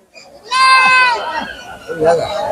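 A goat bleats loudly and close at a village goat market, one long wavering cry followed by shorter calls, with people talking and crowd noise around it.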